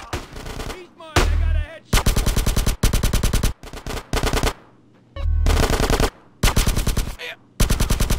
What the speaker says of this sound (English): Give me some fucking covering fire!